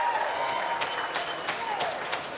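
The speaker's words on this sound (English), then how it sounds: "That gets the crowd going." Crowd applause at a lawn bowls Premier League match in Brisbane after a fine shot, a steady wash of clapping at moderate level with a commentator's voice faintly threaded through.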